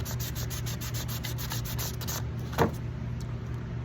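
Old varnish is sanded off a roughly 100-year-old wooden golf driver head in quick, rhythmic rubbing strokes. The strokes stop partway through, leaving quieter handling sounds.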